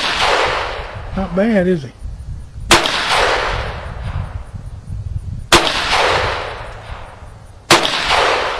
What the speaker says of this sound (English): Little buddy shooting a 22.